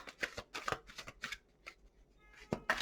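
Tarot cards riffle and snap in quick bursts, three shuffles with brief pauses between, close and fairly quiet.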